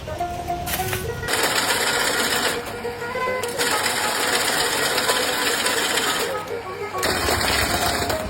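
A GI wire mesh net making machine runs with steady ratcheting, clattering mechanical motion, loud and continuous across the clip, with brief shifts in intensity and no talk.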